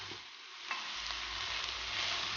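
Meat fries in a pan while being stirred, a close, steady sizzle with soft scraping and a few light knocks from the utensil, no voices.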